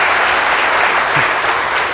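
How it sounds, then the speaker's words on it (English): Loud, dense applause from an audience of laboratory employees at an author's talk, sustained clapping filling the room with no speech. "Pause for clapping."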